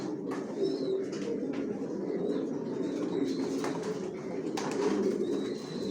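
Racing pigeons coo softly and repeatedly in a low murmur, with occasional wing flutters and faint chirps nearby.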